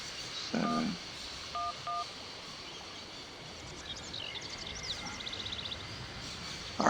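A telephone in the video game Syberia dials a number with a few short, separate keypad tones, heard over steady background ambience with faint chirps later on.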